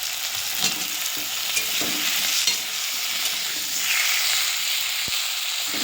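Cut potatoes stirred and fried in a pan with onion, tomato and green chilli for a Bengali fish curry, giving a steady close sizzle with scraping stir strokes throughout and no talk.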